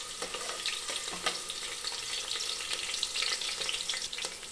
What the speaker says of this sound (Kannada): ಈರುಳ್ಳಿಯನ್ನು ಸ್ವಲ್ಪ ಫ್ರೈ ಮಾಡ್ಕೋಬೇಕು.